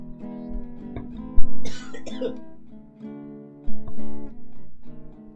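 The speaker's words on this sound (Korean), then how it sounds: "마이크가 좋아서 그런지 꺼도 기침 소리 다 들어가네요" Two sharp, loud coughs ring out near a studio microphone that was supposedly switched off during a stock-trading livestream, each a short harsh burst separated by a few seconds of quiet hum and faint vocal tone.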